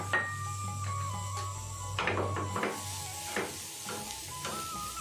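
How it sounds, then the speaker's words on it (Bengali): Grated coconut fries quietly in a pan on low flame, with light sizzling under repeated spoon scrapes and clicks against the pan, a low hum running through the first half, no talking. "এবার আমি ফ্রাই করে নেব নারকেল।"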